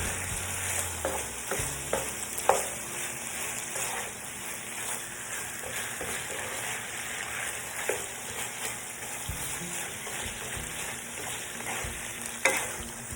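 Beef browns in a pan for pepper steak, a steady crackling sizzle with repeated spatula scrapes and taps against the pan every few seconds, close and unaccompanied by speech.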